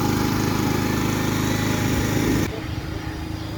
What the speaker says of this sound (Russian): И с помощью бензогенератора замешиваем раствор, клей, пилим.